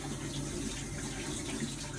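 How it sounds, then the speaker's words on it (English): Tap water runs steadily from a faucet into a sink as hands are wetted while making sticky sourdough naan dough, a continuous close hiss with no talking. "so all I'm going to do is wet my hands."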